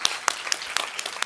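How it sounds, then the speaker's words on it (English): Sparse applause from a conference audience at a women's leadership forum welcomes a speaker, a short scatter of separate claps heard fairly close and without voices. "Warm applause to Bethany Webster."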